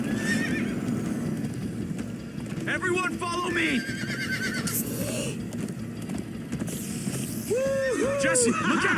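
Horses in the Minecraft: Story Mode video game neigh and whinny repeatedly over a steady clip-clop of galloping hooves, with game dialogue and shouting voices layered throughout.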